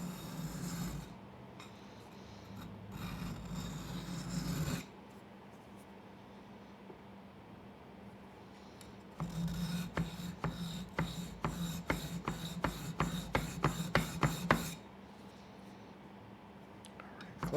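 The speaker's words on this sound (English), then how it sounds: "Each abrasive I get a little bit closer to the edge." A coarse abrasive is worked over the edge of a jaw harp in bursts of rasping strokes, first a steady scraping run, then a pause, then a quicker series of short rhythmic rubs, close up.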